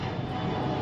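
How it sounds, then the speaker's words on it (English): Airplane passing overhead, a steady broadband engine roar filling the short stretch, loud and continuous with no other sounds on top. "sorry about that plane"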